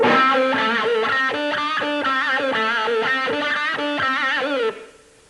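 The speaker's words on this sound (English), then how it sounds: "Another real popular pedal is a pedal called the wah-wah." Electric guitar notes played alone with a wah pedal, the tone sweeping and shifting between bright and dark across a steady run of picked notes.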